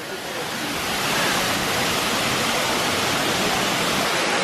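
Nauyaca waterfall in Costa Rica roars with a constant, dense rushing wash of falling water, close and unbroken throughout.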